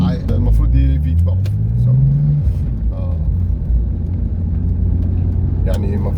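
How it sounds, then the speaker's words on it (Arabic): An Aston Martin Rapide S with a V12 engine rumbles close by, its engine note rising as it accelerates and then settling into a steady low drone, with people talking over it. "العربية اللي قدامي ديت أستون مارتن رابيد اس. المفروض دي V12"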